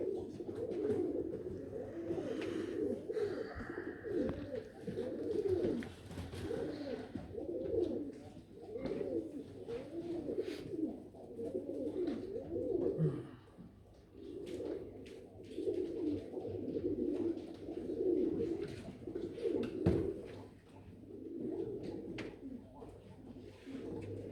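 Jacobin pigeons at a British show coo steadily in repeated rolling phrases, several birds overlapping nearby, with faint hall murmur underneath.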